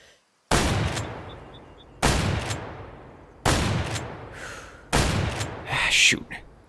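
Four loud, near gunshots a little over a second apart ring out while hunting scoter ducks in the Way of the Hunter video game, each blast trailing off in a long echo, with a short breathy vocal sound near the end.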